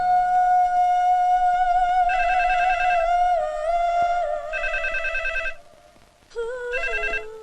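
A telephone rings in a comedy film scene, sounding as a sustained tone followed by repeated electronic trilling bursts, clear and prominent with no talk over it.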